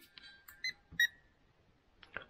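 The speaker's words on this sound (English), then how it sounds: "it will make a beeping sound and flash orange whilst reading" A Truma ultrasonic gas-level checker pressed against a steel gas bottle gives short electronic beeps while reading, a few quiet isolated tones in near silence.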